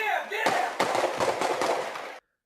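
Rapid bursts of sharp gunfire crack in quick succession for about two seconds, fairly loud, then stop abruptly, captured by home security cameras in the Midtown neighborhood of Mobile.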